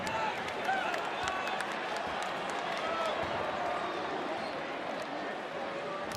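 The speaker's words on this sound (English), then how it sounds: "Boy, they can get loud in a hurry, can't they? This crowd, my goodness." Basketball arena crowd cheering loudly for Fresno State at New Mexico, a dense, sustained roar with scattered claps and shoe squeaks, and a commentator talking over it.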